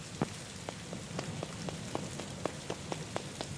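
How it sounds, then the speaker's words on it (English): Cold rain in a video game falls steadily as a dense, even hiss, with sharp individual drops tapping on a surface at irregular intervals throughout. "The cold rain is drenching my clothes"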